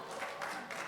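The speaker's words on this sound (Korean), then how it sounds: "또 뭐 박수까지 치세요." A short burst of audience applause, dense and even clapping from a crowd at a talk or gathering, steady throughout with no voices on top.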